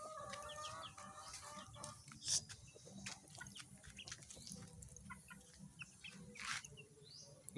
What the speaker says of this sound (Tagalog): Wala lang ito, manok ulit